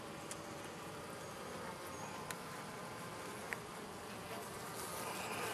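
Honey bees buzz steadily inside a beehive, a dense continuous hum that fills the scene at close range with a couple of faint clicks and no voices.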